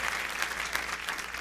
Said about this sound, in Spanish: Denle palmas al Todopoderoso.